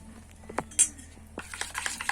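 A spoon stirs biscuit cake batter in a bowl, giving a few distinct clinks and scrapes against the bowl, then quicker soft tapping strokes, all close and fairly quiet.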